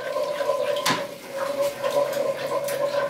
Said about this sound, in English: I'll start mixing that milk in straight away